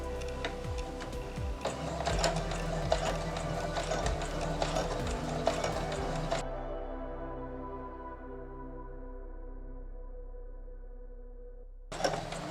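A sewing machine stitches the edge of a cloth face mask in a dense rattling run that stops abruptly midway, leaving a fading hum before a brief restart at the end.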